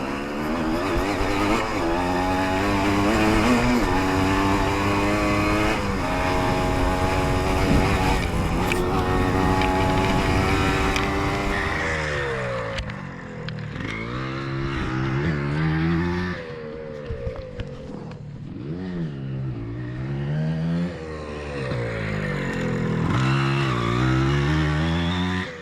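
A 1985 Yamaha IT and a Kawasaki KX125 dirt bike ride through a cornfield on the first day of the season, loud two-stroke engines droning steadily before revving up and down in shifting, rising and falling pitches.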